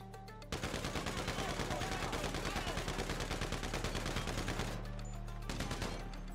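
Sustained rapid gunfire from GTA V Online, the Los Santos Drug Wars update, a dense automatic burst beginning after a brief pause and running loud for several seconds before easing off and picking up again.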